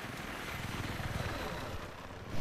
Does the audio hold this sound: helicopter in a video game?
yes